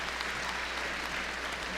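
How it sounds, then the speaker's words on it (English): Steady crowd applause fills a gym at a girls' high school basketball game between Snowflake and Holbrook, a dense, even wash of clapping with no break. "Big round of applause here."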